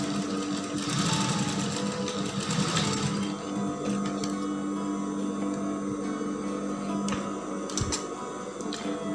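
A sewing machine stitches a mermaid dress, a close rapid mechanical chatter that is busiest early on, then settles into a steadier hum with occasional clicks and knocks.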